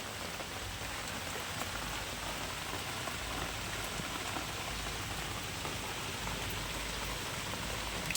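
Steady rain falls in a constant, even hiss of drops on surfaces, soft and unbroken throughout.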